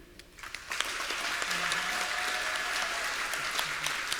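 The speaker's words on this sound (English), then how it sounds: "let's applaud the distinguished faculty and administration who have shepherded your learning." An audience at a graduate school commencement ceremony applauds the faculty and administration, a dense, even wash of clapping that builds quickly and holds steady at moderate loudness.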